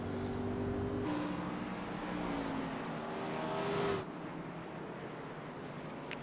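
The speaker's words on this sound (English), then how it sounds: "You hear him shifting through the gears." Race car in iRacing at Bristol shifting through gears, its engine droning steadily with pitch changes between gears and a sudden drop near the end, heard alone.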